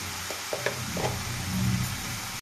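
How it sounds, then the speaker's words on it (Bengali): Pumpkin greens frying in a pan while being stirred, a dense sizzle with a handful of quick scraping taps early on and a slightly louder rustling stretch before it cuts off abruptly. "ভালো করে আমি নাড়িয়ে চাড়িয়ে নেব।"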